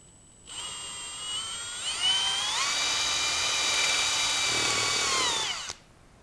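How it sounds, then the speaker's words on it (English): A power drill, switched off hammer mode, whines steadily through a hole in Porsche 911 Cup quarter window glass, its high pitch shifting and climbing partway through before cutting off abruptly. "I'll go ahead and take this off hammer drill mode"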